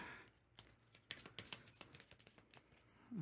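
Cards are shuffled in a quick, crisp riffle of rapid clicking snaps that builds, then ends in a short flutter near the end.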